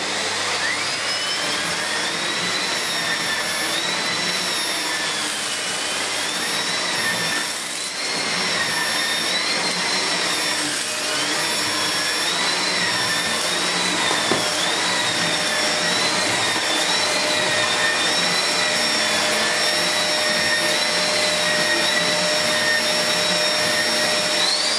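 A refurbished Hoover Model 725 vacuum cleaner runs steadily with a loud whining motor roar and a high tonal hum that wavers slightly, close and continuous throughout with no voices.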